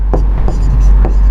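Chalk or marker scratches across a board in a Class 10 maths lesson, three or four short strokes in quick succession over a steady low electrical hum.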